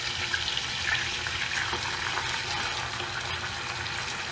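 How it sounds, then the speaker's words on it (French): Onions hit a hot pan with butter, meat and salt for a traditional couscous and fry with a steady, even sizzle and crackle. The sound is close and continuous, with no talking over it. "je mets les oignons"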